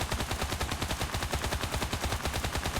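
An SMG fires from the prone position in the World War II shooter Enlisted, a rapid, regular stream of gunshots at a steady moderate rate, continuous for about three seconds and fairly quiet.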